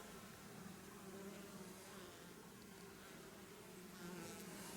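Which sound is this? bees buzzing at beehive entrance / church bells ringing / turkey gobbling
bees buzzing at beehive entrance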